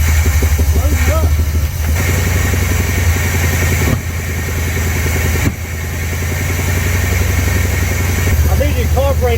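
A 1969 Chevrolet Chevelle SS V8 runs on old, bad gas with its carburetor out of tune, giving a rough, loud, uneven idle with brief stumbles. Voices speak over it at times.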